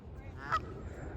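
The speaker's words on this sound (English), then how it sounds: "My buddies. The geese and the ducks." A single goose gives one brief, faint honk at a park, heard at a distance over low background noise.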